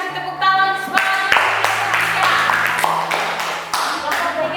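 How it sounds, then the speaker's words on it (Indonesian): A class applauds a student group during a civics lesson with loud, fairly even clapping over sustained tones, with some talk mixed in. "Ayo kita kasih tepuk tangan semangat."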